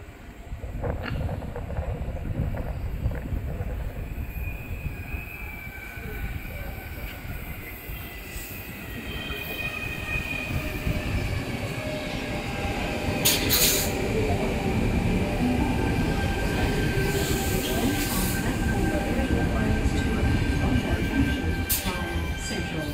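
Sydney train pulling into platform 3 at Banksia station on a Bondi Junction service, steady rumbling rolling and wheel noise with rising brake squeals and hisses, heard up close from onboard with faint announcements.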